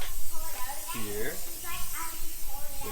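Spray paint hisses steadily while filling in the underside of an electric industrial car before a battery cover goes on, a constant airy rush under close voices talking throughout.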